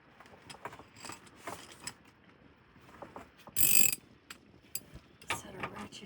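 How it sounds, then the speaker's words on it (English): A ratchet works a freshly cleaned bolt on RV suspension, giving quick repeated clicking strokes in short bursts, with a brief louder burst of noise midway and no talking. "Set our ratchet gear going."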